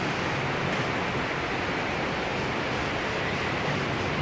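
Water rushing down a hotel waterfall in Las Vegas, a steady broadband roar that stays even and continuous from start to finish with no voices.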